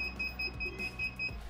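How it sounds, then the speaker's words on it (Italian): Faint electronic warning beeps from an electric scooter's anti-theft lock, a steady series of short, evenly spaced high tones pulsing over low background rumble. "il motore elettrico lo tiene fermo se lo andrete a spostare, ed emetterà un leggero cicalino"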